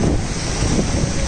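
Strong wind buffeting the microphone during a Royal Enfield motorcycle ride carrying a rider, a passenger and luggage, a loud continuous roar throughout.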